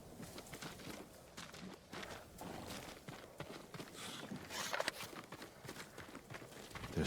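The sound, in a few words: samurai horses' hooves clip-clopping in video game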